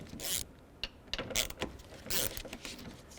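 An 8mm socket on a ratchet loosens the side mirror mounting bolts on a 2005-10 Jeep Grand Cherokee, giving faint, close clicking bursts in short irregular spurts.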